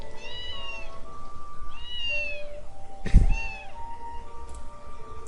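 A stray cat in the visual novel Princess Evangile gives three affectionate, rising meows spaced about a second apart, close and clear over a soft music bed, with a brief thump between the last two.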